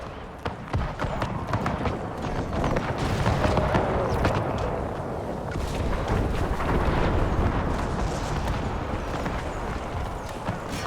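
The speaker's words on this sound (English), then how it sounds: "And then the grenades hit in all of that. Give them another grenade before they are able to rally." Grenades burst in an Empire Total War battle, a dense rumbling barrage of blasts and crackling gunfire mixed with the roar of troops, loud and continuous throughout.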